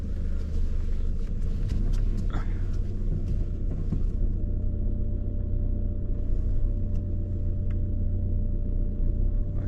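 A car engine hums steadily at close range, a low constant drone with no clear revving, as the vehicle creeps slowly in reverse.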